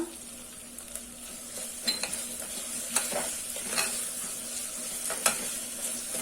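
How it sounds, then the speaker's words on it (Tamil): Coriander and mint leaves sauté in a pan with a soft, continuous sizzle as a utensil scrapes and clicks against the metal every second or so. "இது ஒரு 1 நிமிஷம் வதங்கட்டும்."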